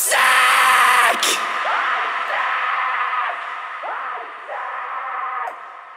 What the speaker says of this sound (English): I've got the vocal being sent to a tape delay to do a delay throw